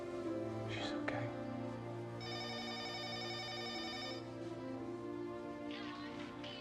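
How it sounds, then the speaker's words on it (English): A telephone rings in a family home on a school-day morning, a bright trilling ring lasting about two seconds over steady background music, with soft breathy voices before and after. "the phone's ringing"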